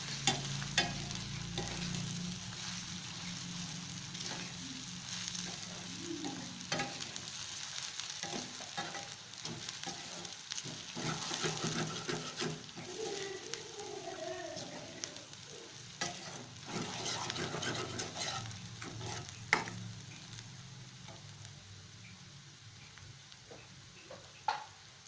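Ginger garlic paste sautéing in a pan for black pepper chicken, a steady sizzle with repeated scraping stir strokes throughout, close and moderately loud, no voices.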